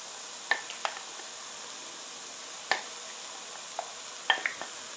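Crawfish jambalaya ingredients sauteing in a pan, a soft continuous sizzle with a few sharp pops and clinks of stirring scattered through it.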